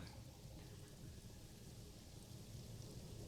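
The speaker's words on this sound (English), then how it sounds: "Oh, hey, it's raining again." Steady rain with a low rumble of thunder in the zoo-building game Planet Zoo, a faint, continuous wash of falling drops without any talking.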